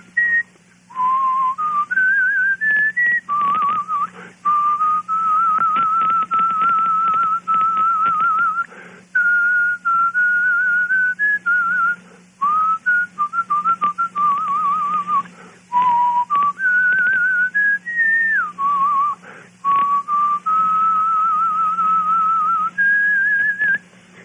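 A man whistles a melody solo, a clear, sustained, gently wavering tune in short phrases with brief breaths between them, close and alone without talk.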